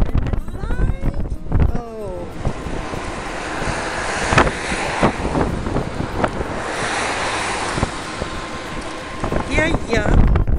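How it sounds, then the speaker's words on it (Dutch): Wind gusts outdoors as dark weather approaches along a bike path, a steady loud rush buffeting the microphone while people talk over it. "En het waait."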